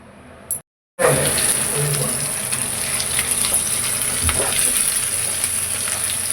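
Potato and onion pieces frying in a pan give a steady, close sizzle. It runs almost continuously after a short gap near the start, with a few faint clinks.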